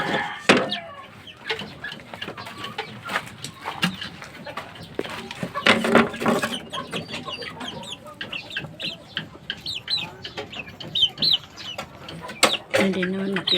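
A fighting rooster clucks in short, repeated bursts while being fed, in a dark coop, with other fowl sounds and occasional talk in the background.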